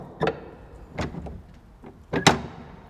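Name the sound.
door latch and squeak, sound effect recording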